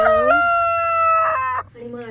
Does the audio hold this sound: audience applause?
no